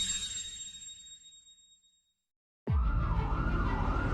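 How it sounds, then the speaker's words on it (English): A siren wails with a rising and falling tone after a short hush, loud and near over a rumbling vehicle. "Sirens closed in."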